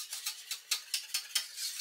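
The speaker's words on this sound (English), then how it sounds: "just stir in a generous blob of butter. Give it a nice whisk." A whisk beats a generous blob of butter into a chocolate mixture for a Black Forest trifle, giving quiet, rapid rhythmic scraping and tapping strokes against the bowl at close range.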